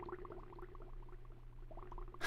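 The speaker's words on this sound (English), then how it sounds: "it sounds like someone is blowing bubbles" Underwater bubbling beneath the water surface in the game Myst, a steady soft gurgle of rising bubbles over a low hum, fairly quiet and continuous.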